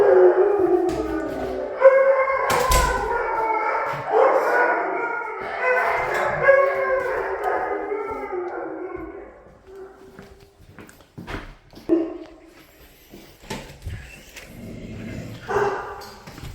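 Several dogs howl together in a long, wavering chorus, loud and close, fading after about ten seconds into scattered yips and short barks.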